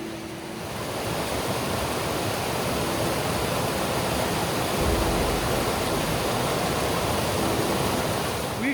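A river at a backcountry crossing in Algonquin, a steady, full rushing wash of flowing water close by, constant and unbroken with no talk.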